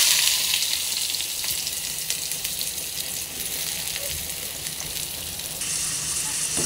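Two chopped onions fry in a home kitchen pan for a pea and potato bhaji, giving a loud, steady, hissing sizzle that runs unbroken throughout with no talking.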